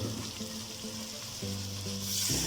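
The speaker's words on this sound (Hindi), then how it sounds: "थोड़ा सा फ्राई करने के बाद मेरे पास 1 ही पाव टमाटर है, ये मैं इसमें डाल रही हूँ।" Chopped tomatoes go into frying masala for chicken biryani, and the pan sizzles loudly and continuously up close while a low tonal hum sits underneath and the frying surges near the end.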